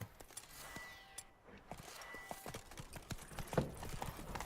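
Hooves of a galloping horse in The Witcher 3: Wild Hunt pound out a steady, quick clip-clop rhythm up close, running continuously with a louder strike near the end.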